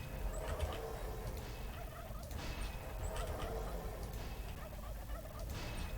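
Turkeys gobble in the tower-defense video game Dungeon Defenders Redux, a repeated burst of rapid gobbling calls over a constant dense wash of game noise, the gobbles arriving every couple of seconds at a moderate, quiet level.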